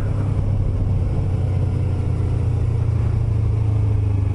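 A Yamaha YZF-R25 motorcycle rides along an ordinary road after leaving an expressway interchange near Tsurugashima, its steady mid-pitched engine drone continuous and close alongside constant wind rumble, no voices.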